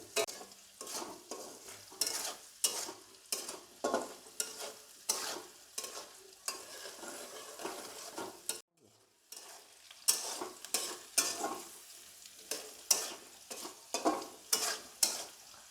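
Potatoes frying in a pan with an ongoing sizzle and rhythmic stirring strokes scraping across the pan, briefly pausing midway before resuming, close and fairly quiet.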